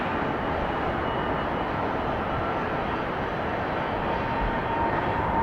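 A steady, broad roar of jet engines fills the clip, loud and unbroken, like the cabin noise of an airliner coming in to land at Atlanta Hartsfield airport.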